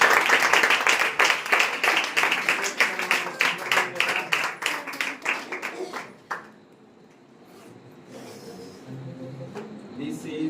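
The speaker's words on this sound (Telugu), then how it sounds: "క్లాప్స్ కొట్టండి అందరూ." A church congregation claps in a steady, rhythmic beat for about six seconds at a birthday blessing, then the clapping stops and quieter voices continue.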